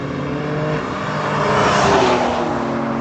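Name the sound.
traffic going by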